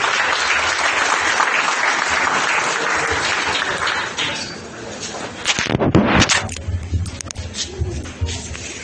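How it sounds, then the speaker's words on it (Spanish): A church congregation claps together in a loud, dense burst of applause at a Friday evening service; the clapping swells, fades briefly, then surges again near the end as voices rise faintly beneath it. "démosle palmas al Señor una vez más"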